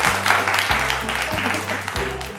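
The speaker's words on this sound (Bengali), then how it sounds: "প্লিজ কংগ্রাচুলেশন সবাই মিলে হাততালি।" A crowd claps for congratulations at a jewellery store anniversary event, a busy wash of hands under a repeating low synthesized music tone that pulses in regular blocks through the short stretch.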